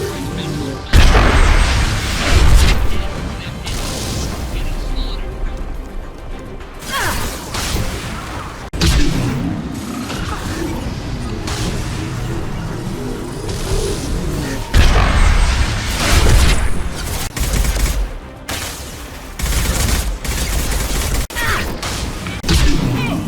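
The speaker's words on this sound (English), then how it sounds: "Watch out, big guns! Heavy weapons!" Heavy weapons firing in a video game: loud booming blasts, crashes and whooshing impacts in rapid, irregular bursts throughout, dense and close, with no clear talk.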